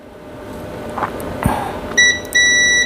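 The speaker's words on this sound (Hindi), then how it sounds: "इसमें भी बीप है" Multimeter continuity tester sounding short electronic beeps while a resistor is checked, two clear tones near the end after faint handling clicks, close and bright.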